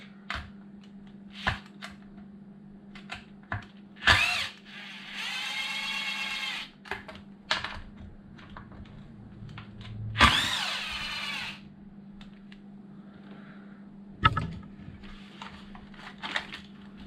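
A power driver whirs in short bursts while backing screws out of a Traxxas Slash LCG 4x4 RC truck, two longer spins among clicks and handling noises, close and alone.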